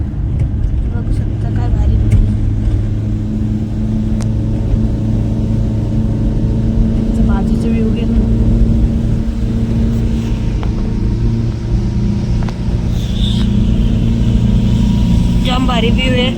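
Steady low engine rumble and road noise from inside a moving taxi on the road to Matheran, continuous throughout, with faint traffic sounds outside.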